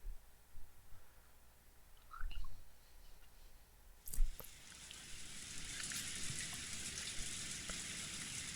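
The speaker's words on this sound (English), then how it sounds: "All that could be heard was the sound of the rain" Steady rain in a visual novel game scene, a soft hiss that swells and holds after a sharp click partway through, preceded by quieter faint taps and thuds.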